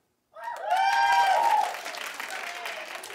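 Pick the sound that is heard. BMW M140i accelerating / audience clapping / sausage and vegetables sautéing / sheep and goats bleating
audience clapping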